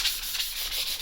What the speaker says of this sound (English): like sandpaper or sanding or whatever you want to call it